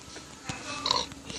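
A pig grunts and oinks in a video game, a few short snorting calls over a busy, steady game background, close and moderately loud.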